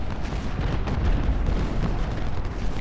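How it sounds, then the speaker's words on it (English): Artillery fire in the Civil War strategy game Ultimate General: Civil War, a continuous rumble of distant booming cannon shots blending into a dense, steady barrage with no clear gaps. "With that artillery fire"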